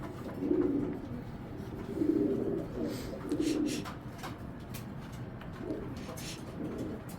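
Pigeons coo softly in repeated low, throaty phrases at a steady pace, with quiet background noise and no talking.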